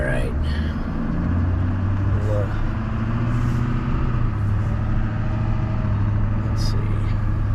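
Car with 237,000 miles driving around a residential block, giving a steady low engine rumble and road noise from inside the cabin, with someone talking over it.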